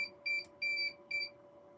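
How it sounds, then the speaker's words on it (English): Beeping from a surveillance system falsely triggered by bugs flying in front of it: three bright electronic tones, each lasting about a quarter second, repeating at an uneven pace over a steady low hum, with no talking. "If you're wondering what the beeping is"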